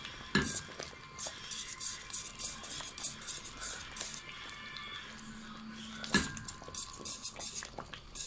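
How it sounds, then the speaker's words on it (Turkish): A spoon stirring tomato paste into a pot of Circassian lepsi soup, with repeated clinks and scrapes of metal against the pot in an uneven rhythm, close and fairly quiet. "Salçayı yemeğimin içine döküyorum güzelce. Ve güzelce karıştırıyorum."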